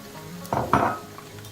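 A brief stir of salt into pickle brine for oily pepper pickle, one or two quick swishing and clinking strokes of a utensil against a container, close and fairly soft.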